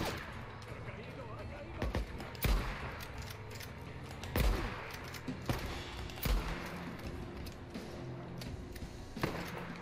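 Sporadic bursts of gunfire crack out every couple of seconds in the video game Days Gone, over a steady rumbling background, with a voice speaking faintly underneath.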